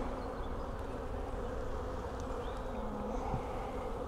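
Honeybees hum in a small, opened hive during an inspection, a dense continuous buzzing drone that stays steady and close throughout, with no speech.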